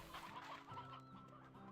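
Chickens cluck in the video game Slime Rancher 2, a run of short repeated clucks from a few fowl at moderate, steady loudness with no talk over them.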